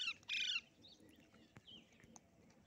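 Indian ringneck parrots fighting let out a sharp, loud squawk followed by scattered shorter chirps and calls, heard close against a faint background hum.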